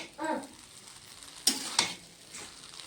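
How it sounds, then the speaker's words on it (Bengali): Vegetable chow mein frying in a pan makes a soft sizzle, with a brief scrape and two sharp clinks of a utensil against the pan midway. Nobody speaks. "আর চাউমিনটা এখন ফ্রাই হওয়ার মধ্যে"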